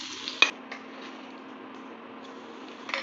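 Potatoes frying in a pan with oil give a steady, soft sizzle that runs throughout, with a few light clicks of a utensil against the pan near the start and near the end.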